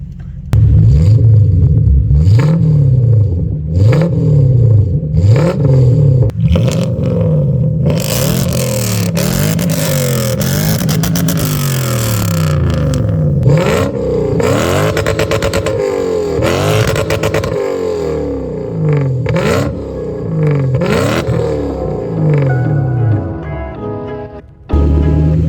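Toyota Soarer's 1UZ V8 breathing through an X-pipe exhaust, revved hard and close over and over, with long sweeping climbs and drops, a sustained high-rev stretch and a rumbling idle between pulls.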